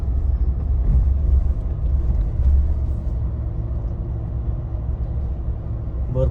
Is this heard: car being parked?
yes